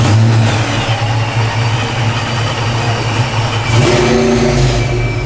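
A 1991 Ford Mustang LX convertible engine runs loud and close, rumbling in a steady rev that surges briefly near the end, with no talking.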